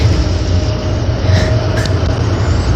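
Denver International Airport's underground subway train on the move, a steady loud rumble of wheels and motors with faint rail squeal, heard from inside the car.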